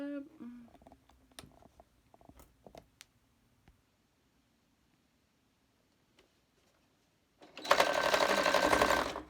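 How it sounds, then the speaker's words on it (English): A sewing machine stitches up a fabric face mask with elastic ear loops, running in one loud, steady burst near the end after sparse clicks and brief talk earlier. "We'll just sew that up."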